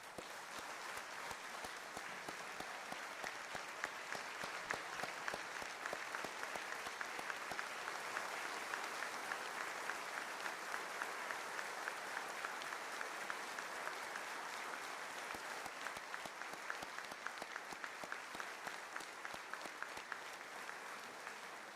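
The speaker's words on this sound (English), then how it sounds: "Let's give them a round of applause." Sustained applause from an audience honoring Oklahoma National Guard engineers who built a temporary road for evacuees from flooded Braggs, steady and even throughout at a moderate distance, spread across a large hall during a State of the State address.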